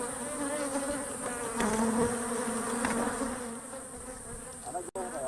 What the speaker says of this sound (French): l'espèce la plus connue est celle-là, Apis mellifera ou l'abeille à miel